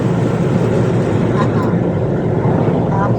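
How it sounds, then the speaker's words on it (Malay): A motorhome engine that has sat unused for a long time rumbles as it warms up and drives off, a loud, steady low roar filling the whole stretch. "memanaskan motorhome yang setelah sekian lama tidak bergerak"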